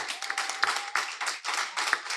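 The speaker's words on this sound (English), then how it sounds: "Give yourselves a round of applause." Dense audience applause at a debate, many hands clapping at once in a steady, full-bodied burst with slight swells, close and loud with no talk over it.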